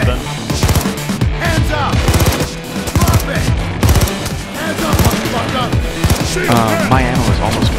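Rapid automatic gunfire rings out in Payday 2, dense bursts of shots and impacts layered over shouting players and in-game voices, loud and nearly continuous.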